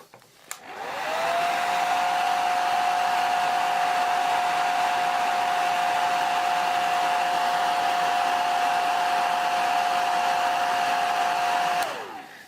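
A hair dryer blows steadily on a wet painting, switching on with a rising whine, holding a loud constant roar with a steady tone for about eleven seconds, then winding down.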